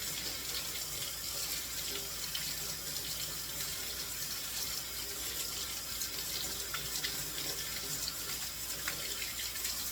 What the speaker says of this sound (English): We're going to rinse them off.